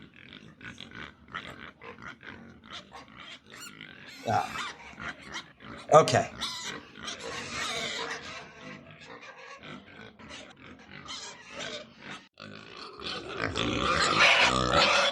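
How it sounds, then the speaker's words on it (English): A pig grunts and oinks in a rough, irregular series of snorts, fairly loud, with people talking around it and a louder burst near the end. "It's a pig."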